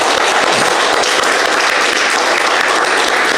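A church congregation at a worship service claps in sustained, dense applause, loud and even throughout with no break.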